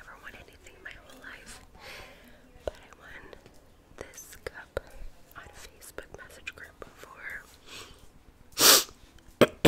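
A single sharp sneeze near the end, loud and close, after a stretch of soft whispering with small mouth clicks and breaths picked up by an ASMR microphone.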